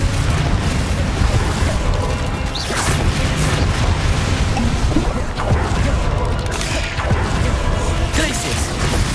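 A Confringo fire spell blasting in Hogwarts Legacy, heard as a dense, continuous roar of booming impacts and crashing debris that stays loud and thick throughout.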